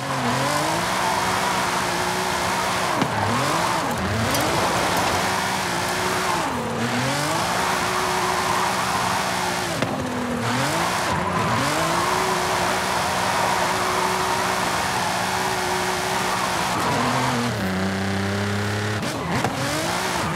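A Nissan GT-R with a VR38 engine drifts in Forza Horizon 5, engine note rising and falling steadily with revving shifts and tire squeal, loud and continuous throughout with no talk.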